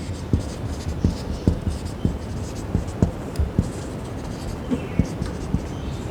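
Chalk or a marker writes on a board during a physics lesson, giving scattered short taps and scratchy strokes at a moderate pace under a steady room hiss.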